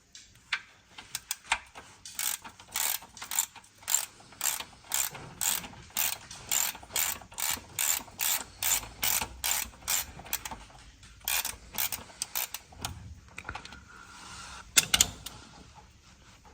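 Ratchet clicking in a long run of quick, even bursts while undoing the 14mm sump plug on a 2009 Lexus IS220D diesel, with brief pauses between strokes and no talk.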